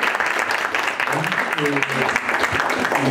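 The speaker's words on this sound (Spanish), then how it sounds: "Para dar un aplauso y agradecer la presencia" Audience applause at a university lecture on Mexico's agricultural sector, thanking the guest doctor; close, busy clapping with voices talking over it.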